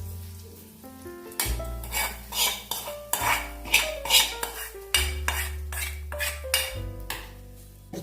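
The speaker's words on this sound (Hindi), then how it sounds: "अभी यानी तड़का लगाएंगे" Tempering spices for a suji breakfast, a metal spoon scraping and clanking against a pan in repeated bursts over a low hum, with faint sizzling in between.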